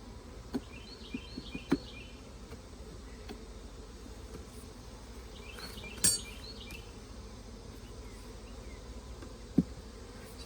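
Honey bees buzz steadily around an opened, honey-bound hive frame being lifted out, a continuous close insect drone with occasional knocks and handling thumps, no talking.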